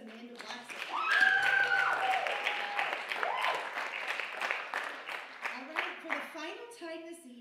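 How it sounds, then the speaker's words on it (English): An audience at a college dance show breaks into loud, sustained applause and clapping, with whoops and cheers over it, the clapping thinning out toward the end. "we need a round of applause for Miss Amanda Watson."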